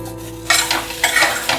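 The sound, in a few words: potatoes and spice powder being sautéed in oil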